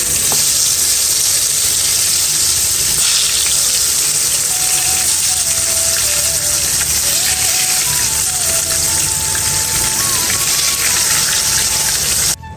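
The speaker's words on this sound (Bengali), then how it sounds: "এখন কড়াইতে দিয়ে দেব ভাজার জন্য" Eggplant chops fry in hot oil in a kadai, giving a loud, steady, close sizzle that hisses without pause for the whole stretch, with a faint thin melodic line running quietly behind it.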